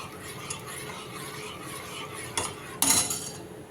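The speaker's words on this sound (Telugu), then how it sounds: "క్రీమ్ని తిప్పుకుంటూ ఉండాలి కొద్దిగా చిక్కమడేదాకా" Cream sauce being stirred in a pan, a spoon scraping and clinking against the metal in a steady low swirl, with a couple of louder sharp knocks near the end.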